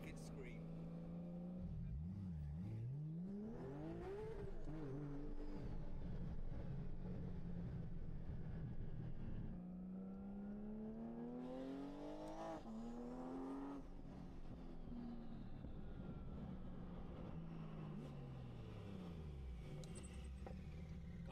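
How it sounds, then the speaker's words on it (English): Powerful twin-turbo Porsche GT3 RS engines rev and roar, pitch sweeping up and down through repeated accelerations, loud and continuous with voices underneath. "all they can hear is two GT3 RS twin turbos going past their office."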